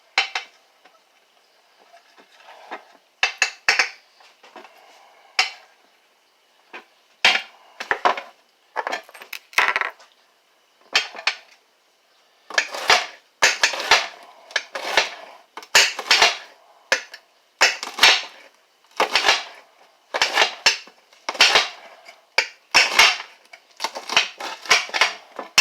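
A knife chops serrano peppers on a cutting board in a home kitchen, sharp rhythmic knocks coming in quick bursts, sparse at first, then dense and steady, close and clear with no talking.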